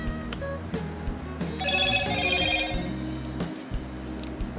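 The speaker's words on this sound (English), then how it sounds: "Oh, we got a text message." A phone's text message alert chimes once as a short run of bright melodic tones, moderately loud over low background noise, with no talking.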